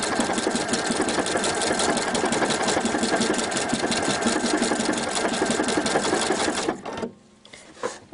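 A sewing machine stitching a ribbon seam runs at a steady, rapid, even pace, loud and close, then halts abruptly near the end, leaving near silence with a faint click.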